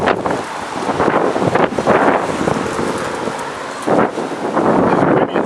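Strong wind in a massive storm blasts across the microphone outdoors in loud, surging gusts, a dense roar that swells and eases throughout.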